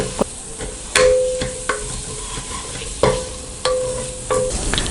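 Onions fry in oil with chili powder, biryani masala and mint for mutton biryani, sizzling steadily while a spoon stirs and knocks against the pan in repeated strokes, loud and close.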